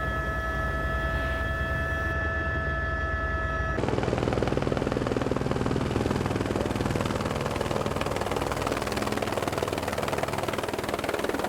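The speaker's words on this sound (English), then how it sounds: "helicopters are very noisy machines" A helicopter on a glacier heli-hike in New Zealand thumps loudly and steadily from inside the cabin, with a rhythmic rotor beat and a dense engine whine throughout, and no talking.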